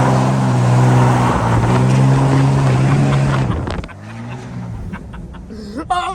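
A 600hp 6.7L Cummins turbo diesel truck with a 5-inch turbo-back exhaust and AFE intake roars loudly up close, its rising engine drone holding for several seconds before cutting back to a quieter idle-like rumble with scattered clatter.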